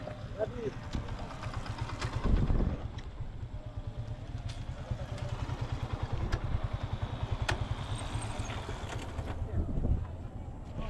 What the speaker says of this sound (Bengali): এই যে আমাদের বাইকগুলো আসতেছে